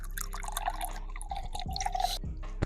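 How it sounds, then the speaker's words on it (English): Water trickles and drips from the built-in water dispenser of a home fridge in a short, fairly quiet burst with small splashy sounds and no talking. "We have a built-in water dispenser into this fridge right here."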